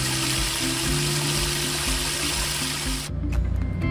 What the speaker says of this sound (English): draining the fresh water tanks now with the sanitization water.